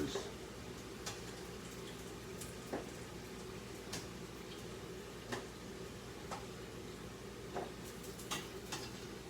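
Small Jamaican codfish fritters frying in oil, a continuous soft sizzle with occasional sharp ticks and clicks, fairly quiet, with a voice talking over it.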